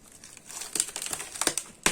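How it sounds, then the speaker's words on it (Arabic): A nylon plastic bag crinkles and rustles as the air is squeezed out of it by hand, a run of sharp, irregular crackles growing louder toward the end. "اعملها في كيس نايلون ما فيهاش اي مشكله، بنفس الطريقه، وخرجي الهواء على قد ما تقدري من الكيس"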